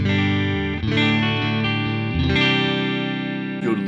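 A clean Fender-style electric guitar tone from a Line 6 POD Go, captured through a 121 ribbon mic, plays sustained chords that change every second or so, full and close with no voices.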